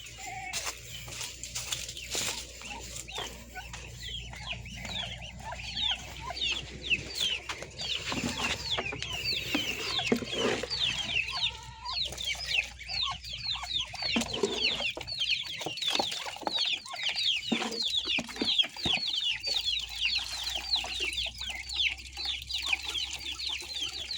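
Backyard chickens clucking and calling continuously while being fed, a dense layered chorus of many birds at moderate distance with occasional scuffling, no talk.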